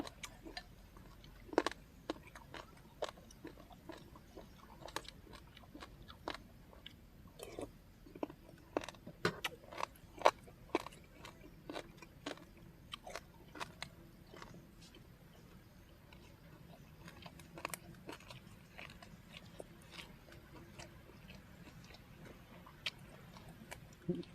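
Crunchy chewing of food during a Thai outdoor meal of spicy beef tendon soup with bitter chili dip and vegetables, close and repeated in irregular crisp bites, with quiet talk at times.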